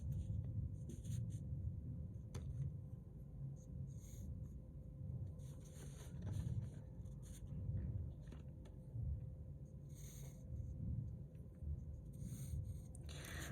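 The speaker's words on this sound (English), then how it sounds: "I'm drawing these pretty lightly because I'm going to erase most of them" Pencil drawn lightly along a straight edge on paper, soft scratchy strokes repeating in short bursts over low room rumble, close and faint.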